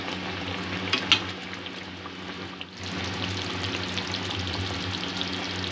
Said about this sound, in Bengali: মাছটা দিয়ে ঝোলটা একটু ঘন হওয়া পর্যন্ত আমি ফুটিয়ে নেব।